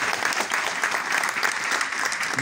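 Louder applause from an audience at a library inauguration ceremony: thick, even clapping that stays strong and steady from start to finish.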